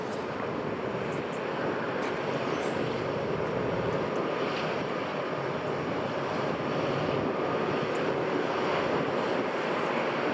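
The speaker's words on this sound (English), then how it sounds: "Time for the Emirates to depart." An Emirates airliner departs Newcastle International Airport, a steady broad jet engine roar holding at constant loudness throughout, with no voices.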